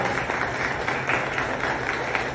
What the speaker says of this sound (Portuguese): te recebemos, Pai, com muita alegria e com uma salva de palmas